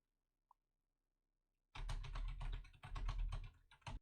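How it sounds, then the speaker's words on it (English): Typing on a computer keyboard picked up by a desk microphone: after a single faint tick and a stretch of near silence, a rapid, fairly close stream of key clatter runs for a couple of seconds. "it still picked up tons of keyboard sound"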